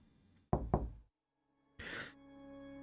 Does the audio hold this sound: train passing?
no